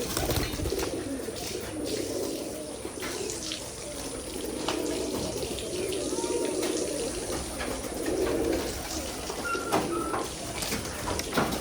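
Giribaz pigeons at a pigeon farm keep up a steady, overlapping chorus of low cooing throughout, with a faint watery hiss in the background.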